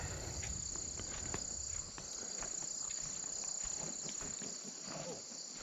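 Crickets and frogs call together in the Australian bush at night, a dense unbroken high chirping drone with scattered clicks and patters beneath, steady and moderately faint, with no talk.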